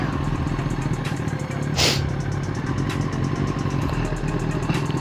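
A Yamaha R6 motorcycle engine runs steadily nearby, a continuous mid-pitched drone with a rhythmic pulsing throb and faint clatter, plus one brief louder whoosh partway through, with no voices.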